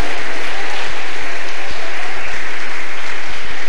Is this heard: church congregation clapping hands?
yes